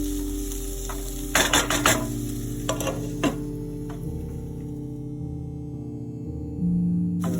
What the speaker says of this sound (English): Keep stirring in between so it does not burn at the bottom.